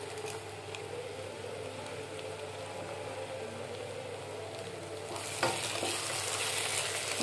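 Prawn curry ingredients frying in a pan, giving a steady, close sizzle that holds evenly throughout and grows slightly louder and brighter toward the end, with no voices.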